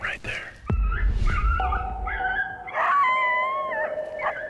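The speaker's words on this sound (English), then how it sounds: "When I heard that coyote do that challenge howl" A coyote's challenge howl in Utah rises and wavers in drawn-out, pitch-bending cries, followed by yips and overlapping howls from nearby animals, fairly distant and unbroken by talk.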